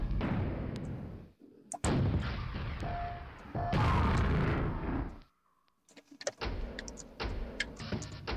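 Rockets explode in the video game Quake, Scourge of Armageddon expansion, in a run of heavy booming blasts and crashes with a brief quiet gap before further sharp impacts, all without talk.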